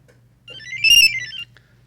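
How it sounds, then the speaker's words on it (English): A Yale smart lock powering back on after its battery is replaced gives a single short electronic chime that rises and falls over about a second, clear against near silence. "replace battery, lock's going to power back on."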